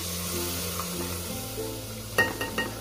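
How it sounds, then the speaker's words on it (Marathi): Spice masala sizzling and frying in a pan for a prawn dish, a steady crackling hiss with a low stove hum beneath, and a few sharp clinks of a utensil against the pan near the end. "हे मस्त असं फ्राय करून घेते"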